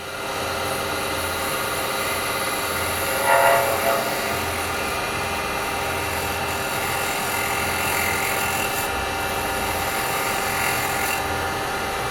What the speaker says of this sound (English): you'll get these fine shavings, angel's hair, and that'll give you a lovely clean finish